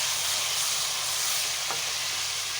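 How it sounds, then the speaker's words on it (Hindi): Fish pieces lightly frying in a pan for a korma, a loud continuous sizzle with steady crackling, close and unbroken, no talking. "इसमें हम करेंगे फ़िश को फ्राई"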